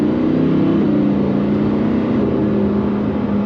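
A Lamborghini pulls away in Strada driving mode with a loud, close, steady engine drone that stays smooth and fairly even rather than rising into a hard rev.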